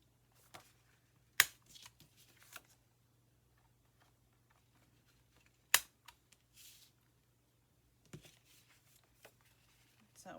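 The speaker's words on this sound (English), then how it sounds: "And corner rounder, I'm going to just give these a little snip." A corner rounder punch snipping the corners of paper notebook inserts, producing a handful of sharp isolated clicks and snips spaced apart, faint and close with soft rustling between them.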